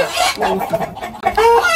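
Layer hens on a poultry farm cluck loudly and close up in a continuous, busy chorus of overlapping calls.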